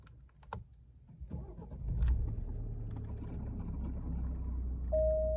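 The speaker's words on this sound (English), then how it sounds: "Now, start her up," A 2018-2021 Alfa Romeo Giulia is started after some faint clicks: the starter turns and the engine catches, then settles into a low, steady idle heard close up and quiet, with a thin tone appearing near the end.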